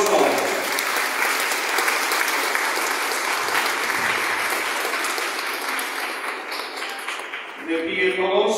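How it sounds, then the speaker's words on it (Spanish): Guests at a November wedding in San Juan Tetelcingo applaud the newlyweds with sustained, loud, dense clapping that fades near the end as a voice begins speaking. "Aplauso"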